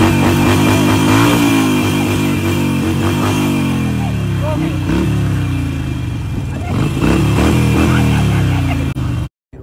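A voice imitates a motorcycle accelerating, with revving engine noises rising and falling in pitch over several seconds, loud and close.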